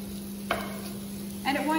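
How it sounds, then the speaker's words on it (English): Minced beef frying in a hot fry pan on a stove top for a speedy bolognese, a steady sizzle with a sharp scrape at the start and a louder burst of sizzling and stirring toward the end. "to put our mince into our fry pan. I can hear that, that's just starting up there now."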